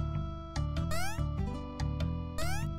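A stylized cat in the ghostly JRPG Magic Wand meows several times in quick succession, the game calls loud and clear over a steady looping background tune.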